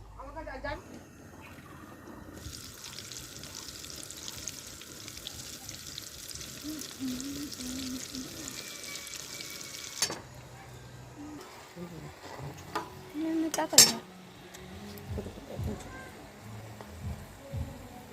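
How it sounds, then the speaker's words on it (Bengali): Chicken pakoras coated in crushed Kurkure snack sizzle as they fry in hot oil, with a steady hiss through most of the stretch, occasional clinks and knocks of utensils, and faint low kitchen noise underneath. "এইভাবেই লাল লাল করে আমি সব পকোড়াগুলো ভেজে নিয়েছি"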